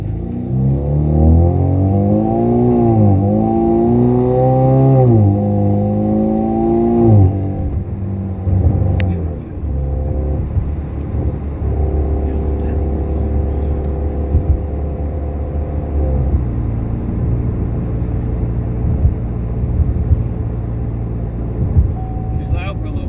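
A four-cylinder turbocharged Camaro running on E85 with added boost revs loudly up and down in rising and falling sweeps, then settles into a steady rumbling idle, with people talking over it.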